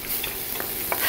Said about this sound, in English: you're gonna fry the bacon to your liking